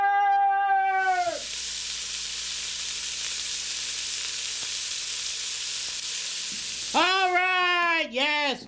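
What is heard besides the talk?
soup sizzling in the pan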